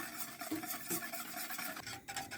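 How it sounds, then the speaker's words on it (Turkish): A spoon scrapes and swirls through a thick supangle (chocolate pudding) mixture in a pot over medium heat, soft continuous stirring with occasional light knocks, close and fairly quiet. "Orta ateşte kaynayıncaya kadar karıştırmak çok önemli bu aşamada."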